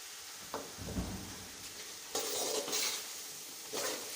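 Finely chopped potatoes sizzle softly in a cooked spice masala while being stirred, with a low frying hiss and a few louder bursts of scraping.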